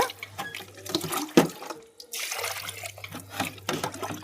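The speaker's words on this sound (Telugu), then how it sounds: "ఫైనల్గా ఇంకొకసారి మనము ప్లెయిన్ వాటర్ పెట్టి కడిగేసుకుందాము." Plain tap water runs over cleaned fish pieces as they are rinsed, a soft splashing flow with a brief gap near the middle and small clatters of handling.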